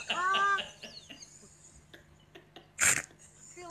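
A rooster crows briefly at the start, a short harmonic call in the near background, followed by scattered quieter sounds and a sharp noisy burst later on.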